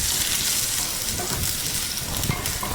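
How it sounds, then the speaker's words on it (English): Two teaspoons of garlic sauté in a little hot oil, giving a steady, dense sizzle with no talking. "You have to heat oil, just a little bit, not much. And just saute 2 teaspoons of garlic"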